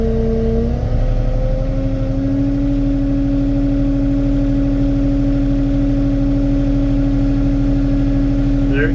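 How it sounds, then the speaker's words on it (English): An LS MT232 compact tractor engine runs steadily close by and rises in pitch as it is revved up after about one second, then holds a constant higher drone, loud and continuous with no talk. "Rev it up a little bit."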